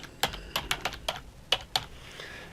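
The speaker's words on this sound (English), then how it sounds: "I'm going to just type the word castle into the box" About eight crisp, separate keystrokes typed close up on a computer keyboard in a quick, uneven rhythm with short pauses between them, heard alone in a quiet room.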